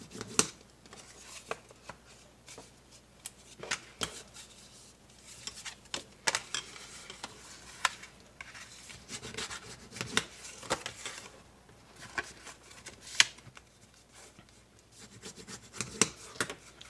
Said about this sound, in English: finish burnishing those score lines